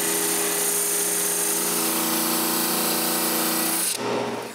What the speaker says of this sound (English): Then I look for something suitable for splines and sand it to size.